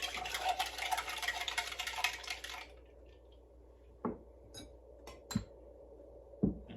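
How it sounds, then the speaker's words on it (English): A passion fruit cocktail is briefly stirred in a glass, giving a dense swirling rattle of ice for a couple of seconds, followed by a few faint, separate clinks and knocks. "And we'll just give that a little stir up."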